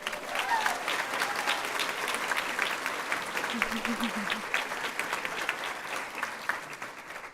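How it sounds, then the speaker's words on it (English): Graduation audience applauding steadily for several seconds at a class ceremony, a dense even patter of many hands in a large room with faint murmur underneath. "Can we give a round of applause to all the husbands, wives, fiancés, and partners who supported me and my classmate throughout this program?"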